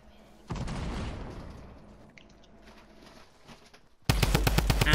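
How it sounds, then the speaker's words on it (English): Video game gunfire and grenade blasts: a burst of booming impact noise early on, a quieter stretch, then rapid loud repeated shots at the end. "They're chucking grenades."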